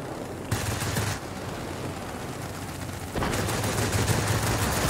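Aircraft machine-gun fire in World of Warplanes, bursts of rapid gunfire that start, pause, then resume louder and more continuously, heard without speech.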